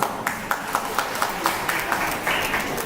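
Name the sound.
applause for a young man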